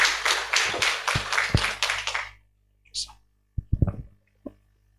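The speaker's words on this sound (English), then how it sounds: "Kindly a clap" An audience at an East and Central Africa regional workshop of the African BioGenome Project claps steadily for a couple of seconds and then stops, leaving a few faint taps and brief knocks in a quiet room.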